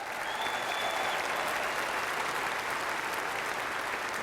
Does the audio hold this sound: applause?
yes